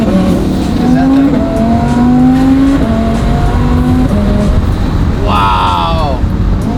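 A rebuilt twin-turbo Lamborghini Huracan accelerates with a loud, steady engine roar, then a quick blip and falling pitch mark a downshift. Occupants talk over the noise inside the car.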